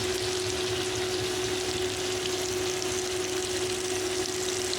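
Sliced pointed gourd (karkol) fries in hot oil in a pan, giving a steady, even sizzle and crackle at moderate closeness, alone and unbroken throughout.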